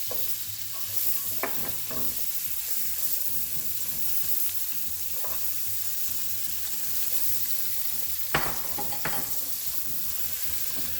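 Onions fry in butter in a single pan, crackling with a steady, close sizzle while a utensil clacks and scrapes against the pan during stirring. No one speaks.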